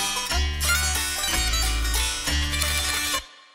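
Dense, harsh music with booming, exaggerated low end and an unnatural, heavily reshaped tone from extreme matching EQ with giant boosts and cuts, cutting off abruptly at the end.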